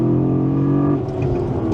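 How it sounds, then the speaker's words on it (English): A Holden V8 SS police car burbles with a deep, steady V8 exhaust note and induction rumble at a near-constant idle. It is loud and close, then eases slightly toward the end. "Something that Holden did with the last of these V8 SSs is they gave it the most beautiful exhaust note."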